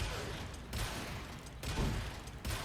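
The Javlok weapon's primary fire in a video game lets out three heavy bursts of fire about a second apart. Each burst is loud and broadband, with mechanical rattle in between.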